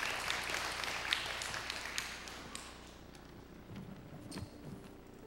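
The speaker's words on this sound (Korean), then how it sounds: "우리 또 큰 박수로 맞이해 주시고" A church congregation claps in welcome for a speaker coming forward, a dense, fairly faint patter of many hands that is steady at first and thins out toward the end.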